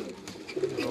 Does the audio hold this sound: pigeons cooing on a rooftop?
yes